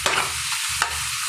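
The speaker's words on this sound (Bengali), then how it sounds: "পেঁয়াজ রসুন দিলাম" Onion and garlic frying in a home kitchen pan, a bright continuous sizzle with a couple of sharp scraping stirs, close and fairly quiet.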